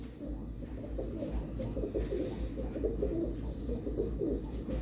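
Pigeons at a pigeon fanciers' sale coo steadily in a low, continuous murmur, a dense flock sound close by with no talking.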